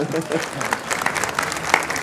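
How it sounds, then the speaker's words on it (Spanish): Audience at a talk on translation breaking into brief applause, a dense burst of many hands clapping with some crowd murmur mixed in. "Un aplauso, por favor."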